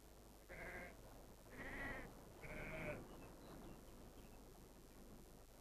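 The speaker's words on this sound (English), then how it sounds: "The Kellers' sheep provide both wool and meat" Sheep on a 25-acre Maine farm in the 1940s bleat three times in quick succession, moderately close, over a steady background hiss, then fall quiet.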